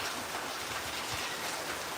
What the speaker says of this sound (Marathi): रोज संध्याकाळी पाऊस चालू आहे